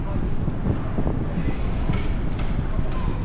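Wind gusting outdoors at Blackpool near a large stage, a steady broad rumble and buffeting against the microphone, with no talking.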